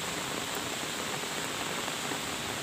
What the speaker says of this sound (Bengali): রহমতের বৃষ্টি বর্ষণ হচ্ছে অবশেষে।